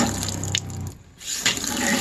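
Pink RV antifreeze runs from a kitchen sink faucet in a Keystone Passport 2810BH travel trailer during winterizing, a steady close splashing flow that dips briefly before resuming.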